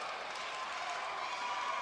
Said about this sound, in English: now the crowd is getting into the match